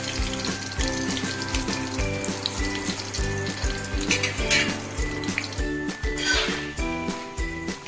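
Slices of pointed gourd (parwal) fry in a pan with a steady, soft sizzle, partly masked by loud rhythmic background music throughout.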